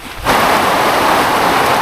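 Heavy rain pours down in a sudden, loud, continuous roar outdoors during a night catch of prawns and mud crabs in Mamburao, Occidental Mindoro, starting abruptly and staying dense.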